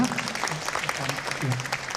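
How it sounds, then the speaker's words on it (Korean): A church congregation claps during a Sunday morning service to welcome two visiting guests, a moderately loud, even applause with voices mixed in beneath it. "우리 박수로 환영하겠습니다"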